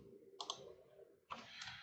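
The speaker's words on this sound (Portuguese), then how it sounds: "Opa, deixa eu clicar nele." Two crisp computer mouse clicks about a second apart, close and faint, set against a quiet room with no talking.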